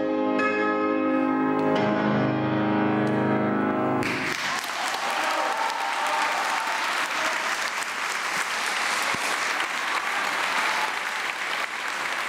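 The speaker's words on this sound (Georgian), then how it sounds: "ეს თითოეული პატარა ტაში" A piano recital's final sustained chord at a debut concert rings out for about four seconds. Warm, steady applause from the audience then takes over and continues evenly to the end.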